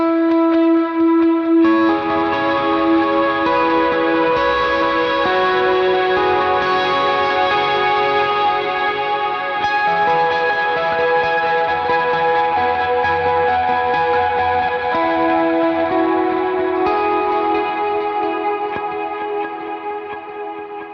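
Sustained electric guitar chords and notes run through a worship pedalboard with HX Effects and ToneX, drenched in long delay and reverb, loud and continuous with smeared, washy tails and no talking.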